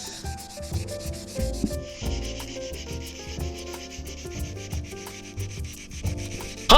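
A vinyl record is scrubbed by hand with sandpaper in repeated rasping strokes, a rhythmic dry rubbing that continues steadily at close range with no talking.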